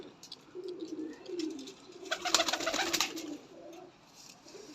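A pair of pigeons cooing close by, soft low rolling coos repeating in a steady rhythm, with a brief burst of wing flutter or rustling in the middle.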